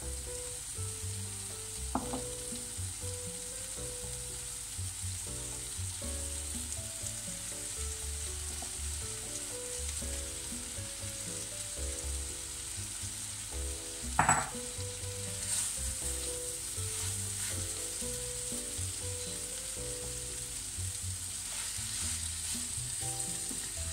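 Endives fry in a pan with onions and tomatoes, a loud steady sizzle running on and on with occasional utensil scrapes and one sharp clatter midway, no voices.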